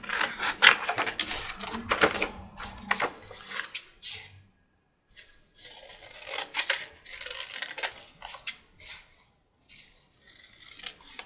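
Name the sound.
scissors cutting paper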